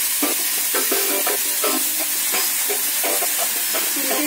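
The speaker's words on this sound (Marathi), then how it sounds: "ही सरसरी फोडणी तयार झाली की त्याच्यात हे जे तुम्ही भिजवलेले ड्रायफ्रुट्स आहेत ते टाकायचे." Soaked dry fruits are stir-fried in a sizzling tempering, with a steady hiss of frying broken by repeated scraping stirs of the spoon, close and alone.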